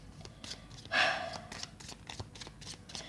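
Tarot cards are shuffled in a short riffling burst near the one-second mark, followed by softer, scattered card rustles at a moderate distance.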